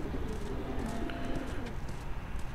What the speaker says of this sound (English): Pigeons in that cage?